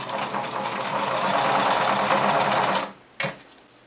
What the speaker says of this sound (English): I'm just going to give a straight stitch at each side of the ribbon.